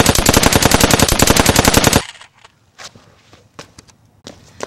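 Cartoon gunshots ring out as a loud, rapid machine-gun-like rattle for about two seconds, then break off into scattered fainter clatters and thumps.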